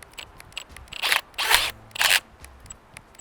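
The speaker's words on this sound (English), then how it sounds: "I will go ahead and push the trigger just so that you can hear that it's burned up" Burned-out power drill, a $200 model fitted with a 6-inch hole saw, straining and grinding in three short rough bursts before seizing, close and fairly quiet between the bursts, no talk.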